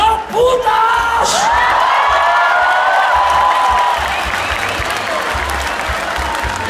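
A large audience at a Puebla fair concert in 2017 claps continuously, a loud, dense sheet of applause with scattered whoops and cheers riding on top, fading slightly toward the end.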